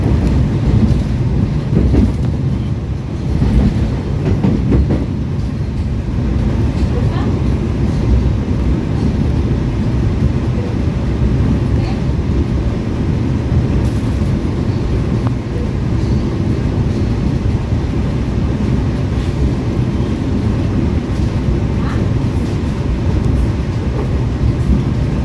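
A PT Kereta Api Indonesia passenger train running, heard from on board as a loud, steady, continuous rumble and rattle that never lets up, with no talking.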